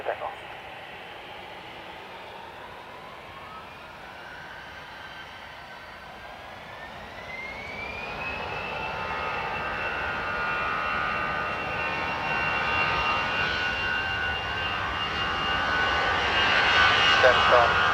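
An Aer Lingus jet lines up and takes off from runway 10R at Dublin Airport, its engine roar rising steadily from a distant whine to a loud, sustained rumble with a climbing tone, while radio voices talk underneath.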